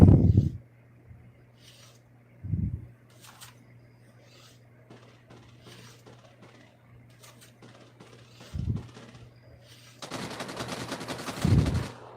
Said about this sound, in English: something's shooting me